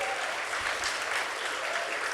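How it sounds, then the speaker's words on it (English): A room full of people at an evening community grant pitch event applauds the volunteer judges, producing a thick, even roar of clapping that holds steady at full strength throughout. "give them a round of applause"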